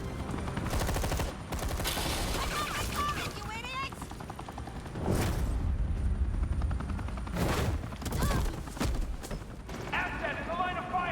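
Video game gunfire bursts out in repeated rapid volleys between stretches of character dialogue and other game sounds, loud and close, with voices talking over much of it.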